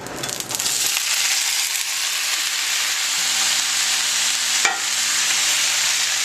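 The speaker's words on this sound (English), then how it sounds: "So a little layer of oil. Here goes the bacon." Bacon frying in a thin layer of oil in a well-seasoned cast iron pan, a loud steady sizzle that continues throughout with a brief crackle near the end, close and alone.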